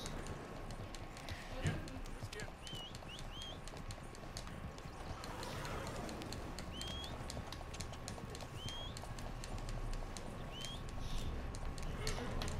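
Horse hooves clip-clopping in the video game Red Dead Redemption 2, a steady run of hoofbeats under a continuous outdoor ambience with occasional bird chirps.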